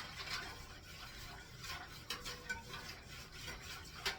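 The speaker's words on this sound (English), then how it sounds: "you're going to keep stirring it till it gets thicker" Blueberry pie filling being stirred in a pot as it thickens for canning: faint, soft scraping and sloshing strokes with a few brief clicks of the spoon against the pot, quiet and close.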